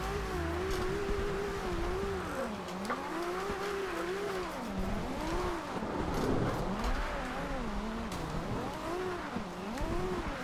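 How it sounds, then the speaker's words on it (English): A Toyota GT86 built to FD drift spec in the racing game Forza Horizon 2 slides through a drift, its engine revving up and down in repeated swooping waves over steady tire noise, loud and continuous with no talking. "We're chucking mad skids right now."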